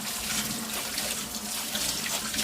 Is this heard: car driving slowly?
no